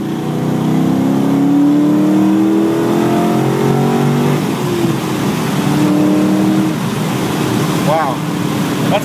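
A 1955 Chevy Handyman hot rod with an LS3 engine accelerating hard, a loud close rising roar that climbs through the revs, with people talking over it.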